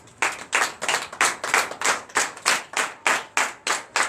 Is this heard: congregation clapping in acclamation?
yes